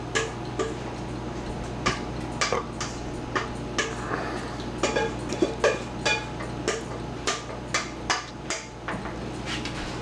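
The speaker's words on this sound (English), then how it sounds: "Now this is gonna go in the big bowl. We're gonna mix it all up." Spaghetti and beef chunks in mushroom sauce being mixed in a big bowl, with repeated close clicks and knocks of a utensil against the bowl in an uneven rhythm over a low steady background hum.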